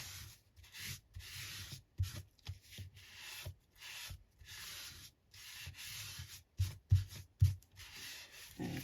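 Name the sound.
burnishing paper in an altered book craft project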